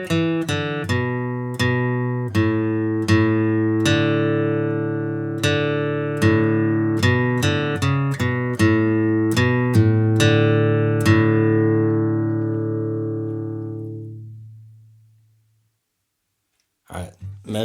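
Flatpicked acoustic guitar plays four measures of the bluegrass fiddle tune Arkansas Traveler as a quick run of clear, evenly picked notes. The last note rings out and fades to silence, then a brief voice enters at the very end.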